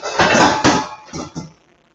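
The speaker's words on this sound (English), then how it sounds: "So now I have hot pans and nothing to do with them." Hot baking pans pulled from an oven clatter and clank together in a few quick metallic bursts, close and loud, then fade off.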